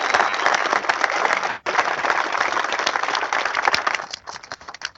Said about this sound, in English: So big round of applause for Kevin Miller.